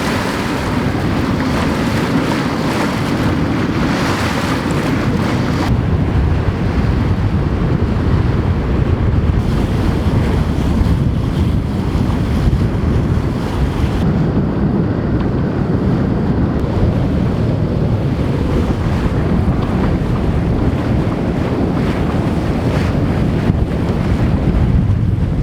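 Loud wind buffets the microphone and ocean waves rush past as a monohull sailboat slices through the water near Bora Bora, a continuous roar with no talking.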